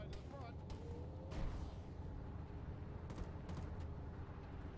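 Arma gunfire in a ShackTac squad battle: a distant, muffled crackle of shots and bursts over a steady low rumble of vehicle and ambient noise, fairly quiet throughout.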